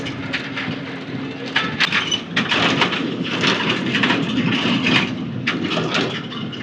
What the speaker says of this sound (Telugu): వర్షం అయితే స్టార్ట్ అయింది, చినుకులు పడుతున్నాయి అప్పుడే.